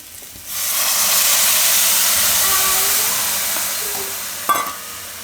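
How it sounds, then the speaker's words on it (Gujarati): Water poured into a hot pan sends up a sudden loud hiss that fills the space and fades slowly over several seconds, with a brief clink near the end. "તો હવે એમાં પાણી નાખશું આપણે"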